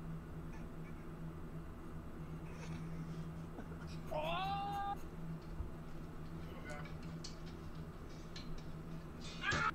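A domestic cat lets out a single short, rising-and-falling meow midway through, over a steady low background hum, with faint talk around it.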